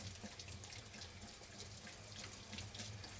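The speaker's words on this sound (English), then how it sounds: "And we're gonna just give those a rinse in cold water." Cold tap water runs steadily into a sink while cooked mung bean glass noodles are rinsed for a Thai sweet and sour prawn soup, a continuous close splashing stream with no talk.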